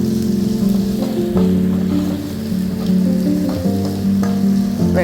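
Chopped onions and two slit green chillies sauté in a pan for a rohu fish curry. A close, steady sizzle runs with clinking stirs over a low humming drone.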